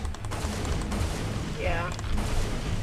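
Fireworks going off outside as a dense, continuous crackle and popping of distant bursts, with a voice audible during part of the moment.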